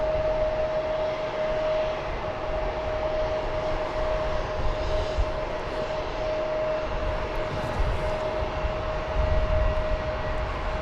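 An American Airlines jet airliner in retro livery, bound for Oklahoma City, passes at DFW Airport with a steady, loud engine roar and a sustained whine. The sound is heard alone, with no talking.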